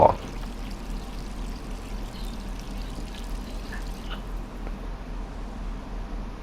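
Water runs and pours steadily inside Resident Evil 3 Remake, a continuous mid-level stream holding evenly through the whole stretch with no talk over it.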